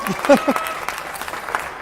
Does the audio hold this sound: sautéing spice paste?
no